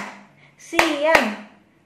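Two sharp hand claps ring out about a third of a second apart during an icebreaker clapping game. Each lands over a voice speaking quietly.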